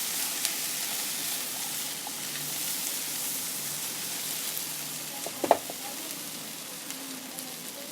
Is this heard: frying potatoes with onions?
yes